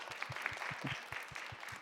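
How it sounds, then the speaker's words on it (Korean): Children at an elementary-level winter church gathering applaud, a fairly faint patter of claps in a brisk, regular rhythm lasting a couple of seconds. "박수 한번."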